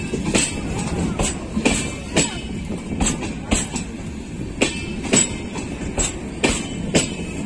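The Darbhanga Sabarmati Express, pulled by an electric engine, rolls through Mau railway station. Its wheels give a steady rhythmic clickety-clack of sharp, regular knocks over a low rumble, close and fairly loud.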